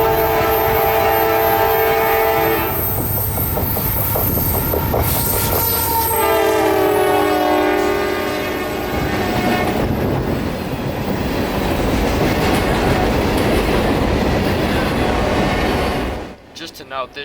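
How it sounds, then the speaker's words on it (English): A CSX AC-44 locomotive hauling a long train of phosphate hoppers sounds its horn in loud sustained blasts, then rumbles past with clattering wheels and rolling freight cars before the noise cuts off abruptly. "a solo AC-44 hauling a long train of phosphate hoppers through Lucuchi was pretty cool"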